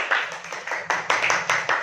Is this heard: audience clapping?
yes